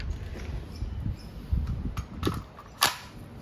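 A Crosman A4-P CO2-powered steel ball airgun fires a few sharp, snappy pops close by, spaced irregularly over a quiet background, with the loudest crack coming near the end.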